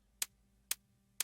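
A very short hi-hat sample layer in an orchestral downtempo production, heard as three crisp isolated ticks spaced evenly about half a second apart, close and clean with no voices.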